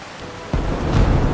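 Rain falls steadily over an evening village while a low roll of thunder swells in and rumbles on, loud and close, with no voices.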